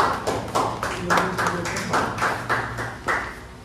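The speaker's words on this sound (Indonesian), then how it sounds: "Beri aplaus kepada kelompok kita" A small classroom group claps for the presenters, a scattered, steady patter of individual hand claps close by, moderately loud, without voices.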